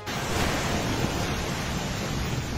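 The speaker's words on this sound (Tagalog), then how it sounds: "nangangalit ang alon sa dagat" Rough, stormy sea waves during Typhoon Pepito in Aurora, Philippines, a dense continuous roar of surf and wind, loud and close with no talk.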